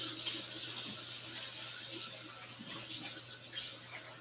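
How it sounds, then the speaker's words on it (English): Tap water runs steadily into a sink as hands are washed at a kitchen griddle station while steaks are prepared, a continuous close hiss with small splashing variations and no talking. "Let me wash my hands."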